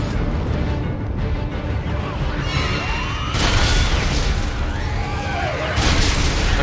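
Deep in-game explosions rumble in Dead Space 3 Awakened, with loud booming bursts and sweeping crackles that swell twice over a steady roar of combat noise.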